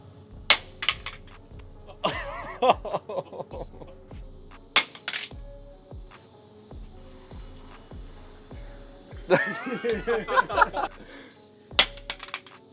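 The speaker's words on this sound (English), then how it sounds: "we're gonna let Steve drop this thing now" A rifle optic dropped in a drop test, giving sharp hard impacts and clattering knocks against a hard surface, separated by quieter stretches, with a few light clinks and handling noises close by.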